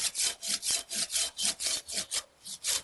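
A Samurai GKC-300 Japanese garden pruning saw cuts through hard wood in a real test, a steady run of about a dozen loud, rhythmic rasping strokes close up.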